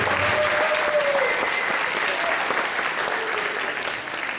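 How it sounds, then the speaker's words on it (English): A steady, loud round of applause from a school orchestra concert audience fills the space, sustained clapping with faint voices mixed underneath. "just give them a big round of applause for their work."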